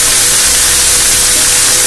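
Water splashed onto onions frying in hot oil, for Indori poha, gives a loud, steady hiss of broad crackling noise lasting the whole moment, with no voices.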